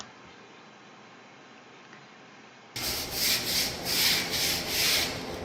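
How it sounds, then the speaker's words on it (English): Tile grout lines being scrubbed with a brush during a deep cleaning, a close rhythmic rasping scrub that starts abruptly after a quiet stretch and continues for a few strokes. "it was crucial for us to scrub really well all the lines"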